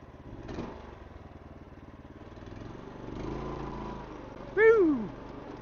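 A small go-kart engine runs at a steady mid-pitched drone, then sharply revs up near the end with a loud rising whine as the kart pulls away.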